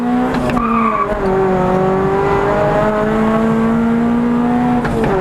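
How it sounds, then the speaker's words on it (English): A front-wheel-drive car accelerates hard up a hill, its engine note climbing and shifting through gears in a loud, close, continuous roar with tire noise. "So, as fast as we can go up this hill."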